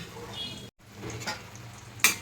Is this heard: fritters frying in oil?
yes